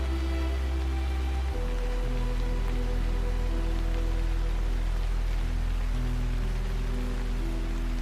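Steady rain falls through woodland, a soft continuous hiss of drops that runs the whole stretch beneath low, sustained droning tones that shift pitch now and then.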